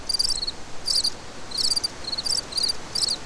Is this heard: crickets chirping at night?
yes